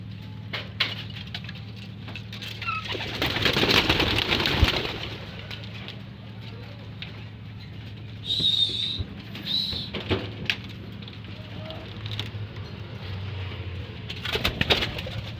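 Pigeons coo softly in a loft holding 22-day-old young birds, with low murmuring coos running under faint wing flutters and a few sharper chirps partway through.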